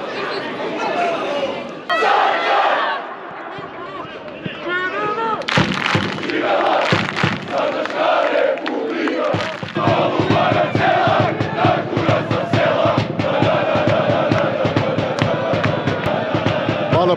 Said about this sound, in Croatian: Za mene zapadna tribina koja i te kako aktivna u navijanju